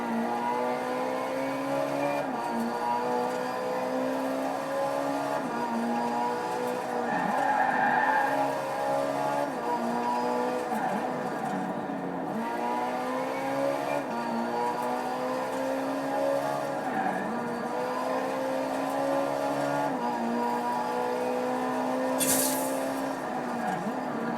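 A Ferrari 458 engine in the video game Forza Horizon 4 drones steadily with repeated rising revs and gear changes, tire squeal mixed in, continuous and fairly loud throughout.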